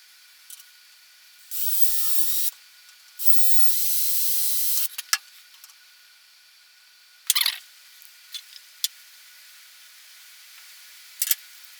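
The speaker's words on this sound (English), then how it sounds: "I'm going to tap it for a 440 screw." Quiet workshop with a few short metallic clicks and ticks as a 4-40 thread is hand-tapped into a copper rod, broken by two sustained hissing bursts and scattered sharp scraping noises.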